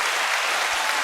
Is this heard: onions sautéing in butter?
no